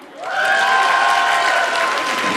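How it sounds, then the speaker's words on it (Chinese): Wedding dinner banquet guests break into loud applause with cheers mixed in. The sound rises fast into a dense, sustained roar of clapping and voices from a big crowd in the hall. "如果你是李明顺的朋友、兄弟、家人，请你现在马上鼓掌。"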